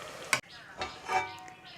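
Spoon stirring shing fish bhuna curry with garam masala in a pan, a few short scraping and sizzling strokes in quick succession, close and fairly soft.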